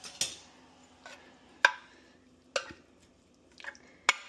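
A utensil scraping and tapping in a pan while flour is mixed into a shepherd's pie filling, giving a handful of sharp clinks spaced about a second apart against quiet stirring, close and alone.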